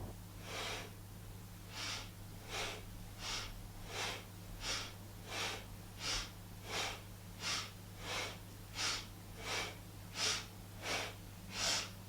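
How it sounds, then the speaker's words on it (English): Steady rhythmic breaths push in and out through the nose during a seated kundalini yoga spinal twist, about a dozen evenly spaced close huffs over a constant low hum, with no talking. "We're going to inhale, twist left, exhale, twist right."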